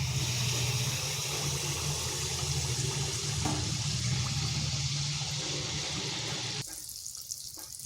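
A ladle of palm-fruit batter fries in hot oil for malpua, giving a loud, steady bubbling hiss that runs close and continuous, then suddenly drops away near the end.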